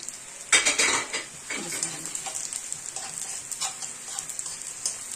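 Thinly sliced onion cooks in a hot pan for a pasta dish, giving a soft steady sizzle with light scraping and stirring against the pan, close and on its own without talk.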